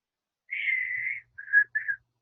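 A person whistles alone in quiet surroundings: one long steady note followed by two shorter notes, clear and close.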